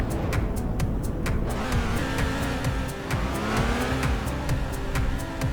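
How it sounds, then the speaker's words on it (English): A 2002 Chevy Impala sheriff car revs its engine loudly and continuously, the pitch rising and falling through repeated throttle blips close by, with a steady rhythmic ticking layered over the engine roar. "There's the rev, guys."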